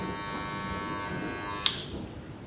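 XTRIM electric hair clippers with a taper blade run with a steady close motor buzz that cuts off abruptly with a click, leaving quiet room tone.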